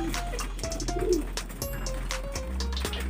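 Racing pigeons coo softly and repeatedly at a loft in Quezon City under an overcast sky, low rolling calls near and moderately faint over light background noise.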